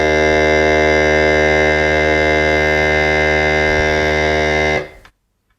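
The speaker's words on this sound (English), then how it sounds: "the amount of time it takes to vacuum actually varies depending on how much air it's removing from your bag itself" An Allkeys vacuum sealer pumps air out of a bag with a loud, steady mechanical hum that holds constant for nearly five seconds, then cuts off abruptly into silence.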